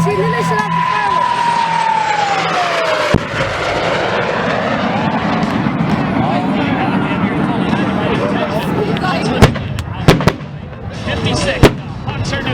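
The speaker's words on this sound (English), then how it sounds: "then they set off the fireworks" Fireworks pop at an airshow as a sharp crack lands early, followed by several loud bangs near the end, all over a steady roar of aircraft engines and a falling whistle-like tone.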